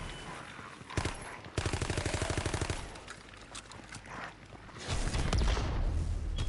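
Video game gunfire rattles in a fast automatic burst, followed by heavier, noisier shooting and rumble, loud and close with no talking.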